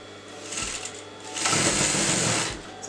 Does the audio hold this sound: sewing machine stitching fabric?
yes